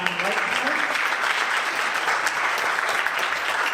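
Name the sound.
concert audience applause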